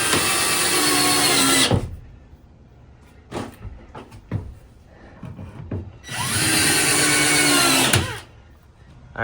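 Two loud bursts of a power drill whirring as it drives 4x40 millimetre screws into wood while assembling a barrel sauna, separated by quieter knocks and handling clatter.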